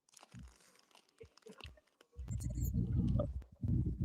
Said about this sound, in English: Can y'all hear me crunching?